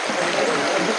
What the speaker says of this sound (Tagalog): Napakalaking sapa po ito.